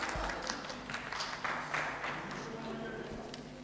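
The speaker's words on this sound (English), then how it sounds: "Yeah, round of applause." A workshop audience briefly claps for a quiz winner, a short scattered round of applause with voices mixed in, fading after a couple of seconds.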